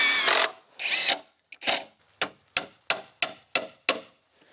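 A hammer or nail gun fastens a metal joist hanger onto a wooden board while building a 10x12 modern shed. A few rough scrapes and thuds come first, then a run of sharp, evenly spaced strikes, close and fairly loud.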